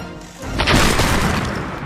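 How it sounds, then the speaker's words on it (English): A pirate ship blows up in a sea battle with a British warship: a sudden loud boom swells into a sustained, rumbling crash that holds near full strength before slowly easing. "Then, a huge explosion ripped its side out, and at once it began to sink."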